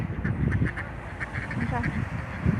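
A flock of ducks quacks repeatedly in loud overlapping bursts, close by, while people talk over the noisy, busy scene.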